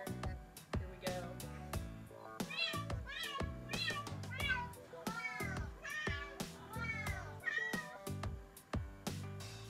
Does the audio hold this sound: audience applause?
no